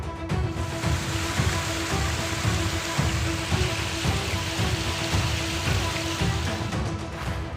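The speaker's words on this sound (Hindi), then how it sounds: "अमरावती जिले में सोमवार रात से मूसलाधार बारिश शुरू हो गई।" Heavy monsoon downpour hammering steadily on surfaces during a night of flooding in Amravati district, a dense, unbroken wash of rain noise with scattered nearby drip impacts, loud and continuous throughout with no voices.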